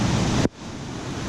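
Ocean waves breaking on hard rock below a high viewpoint, a loud broad roar that cuts off abruptly partway through, then resumes as a softer continuous wash.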